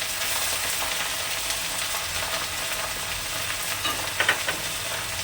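Thick-cut pieces of large onion sizzle in hot oil with a steady, bright crackling hiss, broken near the end by a couple of quick stirring scrapes.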